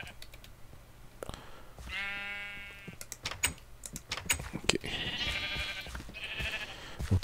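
Sheep in a sky house sheep pen in Minecraft bleating two or three times, drawn-out nasal calls with gaps between them, mixed with clicks and taps of game actions.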